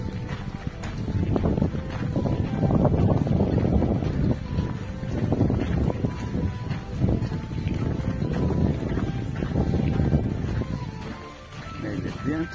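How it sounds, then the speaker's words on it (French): Steady wind roars and buffets the microphone throughout, a low rumbling rush that eases briefly near the end. "Là, il y a un petit peu du vent qui s'élève."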